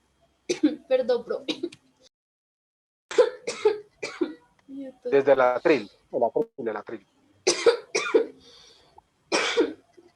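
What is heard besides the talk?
person coughing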